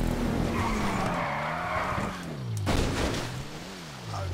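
Race car tires skid and squeal as the car spins out in GTA 5 Online, with steady engine drone and pitch swoops across a continuous loud passage; no talk.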